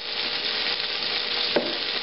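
Chunks of beef brown in a stew pot, giving a steady close sizzle and crackle of hot fat, with a brief scrape or tap of a utensil near the end and no speech.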